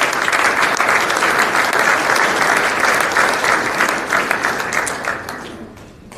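Banquet crowd at the Lone Star Conference baseball championship applauds the all-conference team, a loud sustained round of clapping from many hands that gradually thins and fades out.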